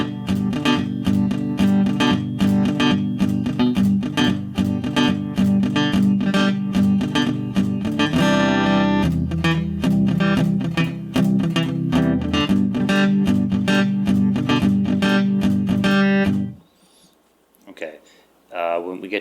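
Acoustic guitar strummed in a steady, palm-muted rhythm for a worship song, with some strums ringing out more fully, continuous for about sixteen seconds before stopping.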